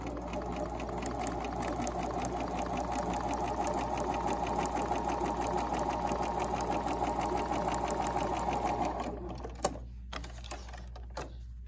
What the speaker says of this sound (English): I'm just going to sew down one side, leaving my 1/4 inch, and then I can just rotate it and sew down the other side.